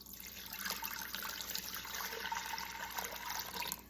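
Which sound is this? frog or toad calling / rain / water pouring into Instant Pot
water pouring into Instant Pot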